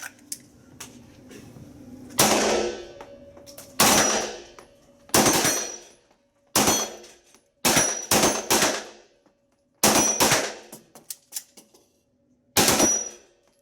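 Loud gunshots from a practical shooting competition ring out in a series of about nine sharp, separate reports with short gaps between them, each leaving a brief ringing tail.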